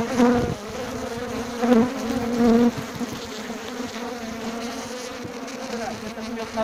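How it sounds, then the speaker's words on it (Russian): Dense, steady buzzing of many honey bees at an apiary hive during a late-June honey harvest, close and loud throughout, with a few swells as bees pass near. "Пчелы."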